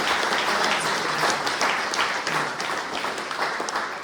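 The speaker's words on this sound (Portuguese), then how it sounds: "Uma salva de palmas para Deus." A church congregation breaks into loud, sustained applause, many hands clapping densely together in a reverberant room for several seconds.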